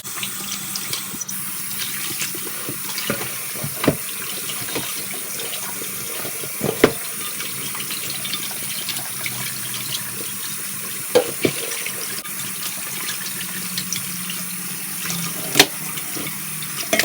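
Running tap water pours steadily over sacrificial meat being washed in a sink, a continuous close splashing hiss with small occasional knocks and clinks and no talk.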